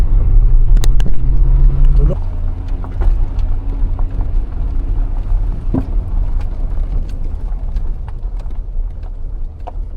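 An old BMW car driving up a steep mountain road in Tajikistan, its engine rumbling loud and close with road noise and bumps, under ongoing talk from people inside.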